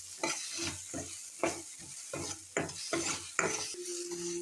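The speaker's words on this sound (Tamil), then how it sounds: "இப்போது இதை நல்லா மிக்ஸ் பண்ணிட்டுக்கோங்க." Onions fry with chilli, turmeric and salt while a utensil stirs them in a pan, with about eight close scraping strokes in a steady rhythm over a soft continuous sizzle.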